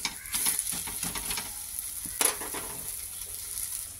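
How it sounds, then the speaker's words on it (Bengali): A paratha fries in a little oil in a pan, sizzling steadily up close, with a few scraping stir sounds and one sharper spatter partway through, and no talking. "এবার এটাকে তেল দিয়ে অল্প অল্প তেল দিয়ে ভাজতে হবে, বেশি না।"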